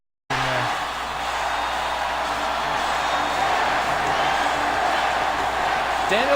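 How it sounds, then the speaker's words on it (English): Wrestling arena crowd cheering during a live Raw broadcast, a sudden loud burst of massed voices that stays full and sustained, with scattered whoops and yells rising through the roar. "Oh, I forgot that crowd in there."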